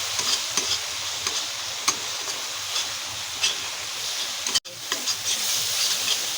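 Spice paste for a Bengali fish curry frying and being stirred in a pan, a steady close sizzle with scraping spoon strokes repeating throughout and a brief break near the end, no voices.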